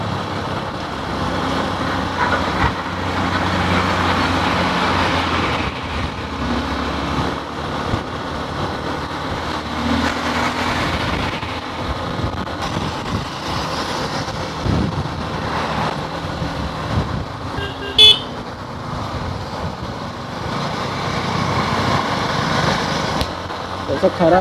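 A car drives over a bad road while overtaking another vehicle, steady engine and road noise rising and falling, with bumps and rattles. A person talks over it much of the time.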